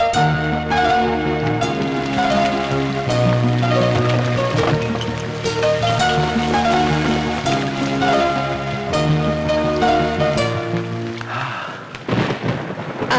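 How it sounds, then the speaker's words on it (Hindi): Heavy rain pours steadily with rumbling thunder, loud and continuous, mixed under sustained music. "बारिश बड़ी तेज हो रही है ना।"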